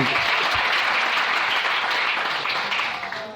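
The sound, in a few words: congregation applauding the Lord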